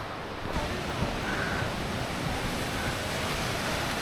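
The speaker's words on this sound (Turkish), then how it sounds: "Burada da şelale." A waterfall beside a cold mountain hiking trail on the way up to a lake, giving a steady broadband rush of falling water that stays even and constant, with some wind on the microphone.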